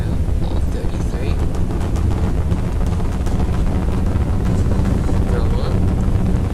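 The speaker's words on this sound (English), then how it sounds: "and liftoff of Starship Flight 3." SpaceX Starship Flight 3 lifting off with all 33 engines lit, a loud, continuous broadband roar of rocket thrust that stays steady throughout, with a commentator's voice faintly mixed into the rumble.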